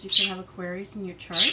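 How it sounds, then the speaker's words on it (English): Pet birds squawking loudly indoors, harsh repeated calls mixed with someone talking at the same time. "I apologize for my birds."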